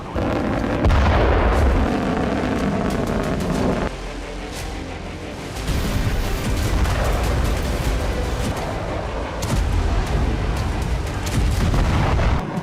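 A US Bolt 1B hypersonic missile test launch: a loud, sustained roaring rumble with heavy blasts and crackle that swells and drops in level across several sections, with no speech over it.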